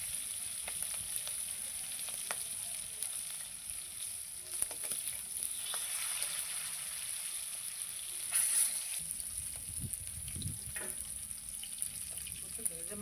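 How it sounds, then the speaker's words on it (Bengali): Fish frying in oil for a rita fish curry, a steady crackling sizzle close by with occasional stirring clatter and a louder burst midway, some faint background noise around it. "এবার মাছ ভাজতেছি"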